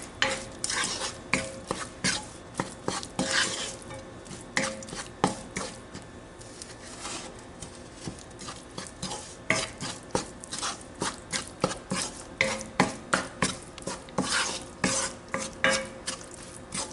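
Green chillies being stirred in oil in a pan for Kerala-style mango pickle, with a steady rhythm of spoon scrapes and clinks against the vessel over a soft background sizzle.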